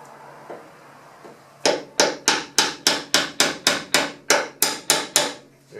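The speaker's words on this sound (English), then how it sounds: "When you hammer this on, don't hammer too hard because it can be really tough to get off." Sharp, steady hammer blows on wood, about a dozen evenly spaced strikes ringing out close and loud against a quiet background.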